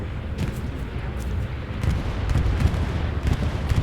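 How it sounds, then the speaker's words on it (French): Artillery bombardment in the World War II shooter Hell Let Loose: continuous low rumbling booms and distant blasts rolling over one another throughout, with no talk. "il y a l'artillerie qui tire"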